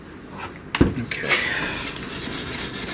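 Abrasive scrubbing of rust off a chrome light fixture from a 1950s kitchen, a sharp knock followed by steady close rubbing strokes, with someone talking over it.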